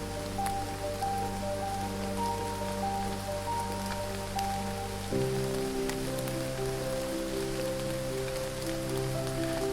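Rain falls onto a forest floor in a constant, soft patter, steady throughout, with faint tonal hum running underneath and no talk.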